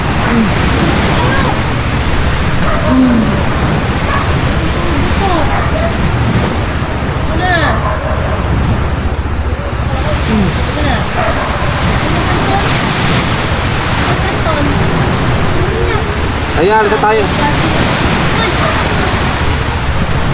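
Sea waves surging and washing continuously near the shore, loud and close, mixed with wind buffeting and a few voices talking over the roar.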